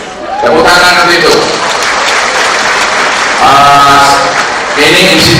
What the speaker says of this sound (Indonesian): Tepuk tangan untuk itu